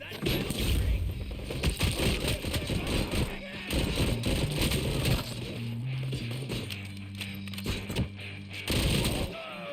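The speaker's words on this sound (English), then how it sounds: "Flashbang." Flashbang and gunfire in RoboCop: Rogue City, with dense, rapid gunfire bursts and crackling impacts throughout, several loud blasts and a steady tonal hum underneath, with game voices speaking over the action.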